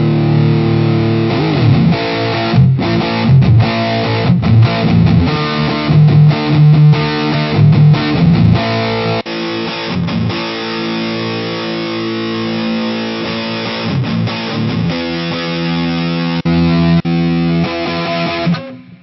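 Distorted electric guitar run through a Hotone Binary cabinet simulator pedal with room ambience added, playing loud chords and riffs steadily for the whole stretch, no voices.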